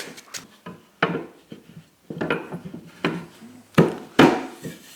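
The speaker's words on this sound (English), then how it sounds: "just a quick sand of these edges, just to turn them over" Hand sanding the wooden edges of a handmade chair, in short scratchy rubbing strokes that come in bursts with brief pauses, close and fairly loud.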